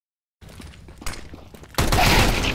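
Video game gunfire starts after a short silence as scattered shots and thuds, then swells into a loud, dense burst of rapid fire toward the end.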